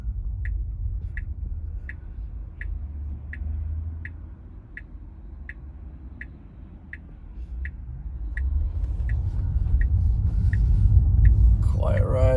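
Car interior on a snowy morning drive to work, with a steady low road rumble and a regular indicator tick-tock through most of it, the engine swelling toward the end.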